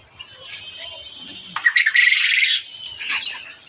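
Racing pigeons in a loft give short, sharp chirping calls, and there is a brief burst of wing flutter partway through. The sounds are close and fairly loud over quiet background.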